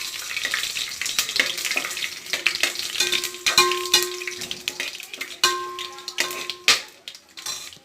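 Cinnamon and cloves fry lightly in a pan for mushroom biryani, giving a steady crackling sizzle broken by repeated scraping stirs and a few metallic clinks.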